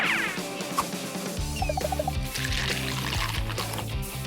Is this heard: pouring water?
yes